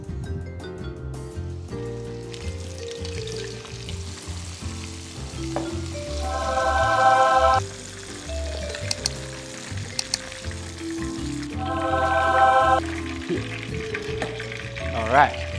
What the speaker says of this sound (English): So frying the fish will help us extract all the oils and also dehydrate the fish